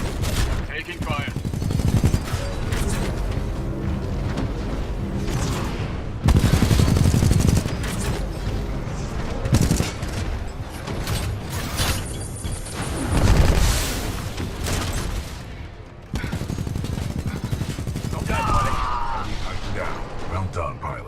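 Heavy gunfire in the Titanfall 2 campaign, loud automatic bursts and mechanical clanks during a firefight with a Militia Titan, with voices talking over the shooting.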